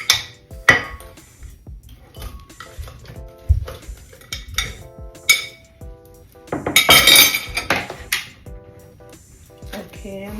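Fruit and spinach going into a blender for a spinach, peach and banana smoothie, heard as scattered clinks, knocks and clattering of dishes and containers, with one denser clattering burst, while someone talks intermittently nearby.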